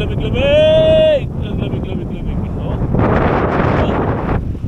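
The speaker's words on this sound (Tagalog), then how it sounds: "kalakas ng hangin" Strong wind buffets the microphone outdoors on the Pangasinan coast, a heavy continuous roar with gusting swells, while a voice shouts briefly over it.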